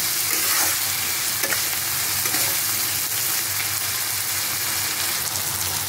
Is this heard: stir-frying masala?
yes